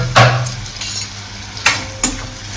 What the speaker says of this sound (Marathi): आता याला नीट परतून घेऊया मिक्स करूया एकदम एकजीव करून घेऊया